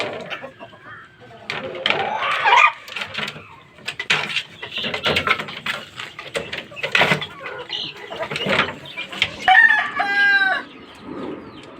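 A Talisay fighting cock out of its cage crows in the open, a strained, wavering call near the end following scattered clucks and farmyard bustle, with people talking nearby.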